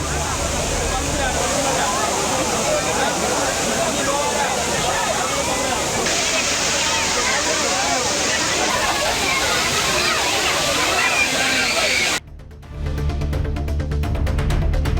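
Papanasam waterfall with tourists bathing, a steady loud roar of rushing, splashing water that runs on unbroken before cutting out abruptly near the end.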